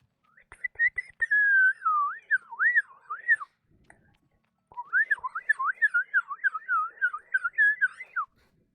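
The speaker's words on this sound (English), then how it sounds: "I'm sorry if the whistling is genuinely bad to listen to." A person whistles a wavering, trilling melody up close, pausing briefly in the middle before carrying on with more warbling notes.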